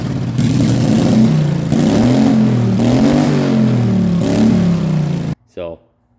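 A race car engine revs loudly and close in repeated rising surges, blipping up and down several times. It then cuts off abruptly into near silence, leaving one brief faint sound after.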